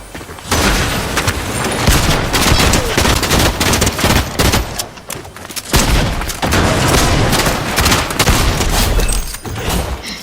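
Rapid gunfire in a Fortnite video game fight, loud dense bursts of automatic shots and booms firing almost continuously, with a brief pause near the middle before the shooting resumes.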